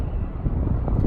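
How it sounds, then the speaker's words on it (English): Strong gusting wind buffeting the microphone outdoors, a dense low rumble that stays steady and loud throughout the short stretch with no other sounds standing out. "Jesus, really windy."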